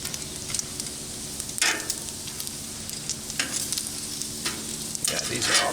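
Bacon grease sizzles steadily on a hot Blackstone griddle after cooking pepper bacon, a close, continuous crackling hiss broken by a few louder scraping bursts as the fat is spread across the surface.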